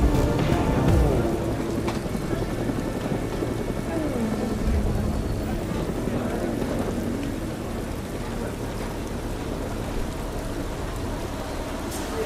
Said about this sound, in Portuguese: No momento, chove muito forte no circuito.